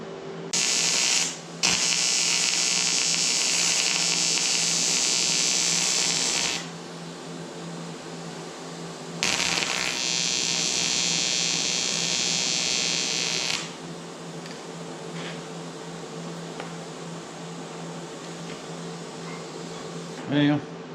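Electric arc welding of gauge mounts on a 1974 Dodge Dart Sport 360 drag race car, a steady loud buzzing crackle in two long bursts of several seconds each, separated by quiet shop background.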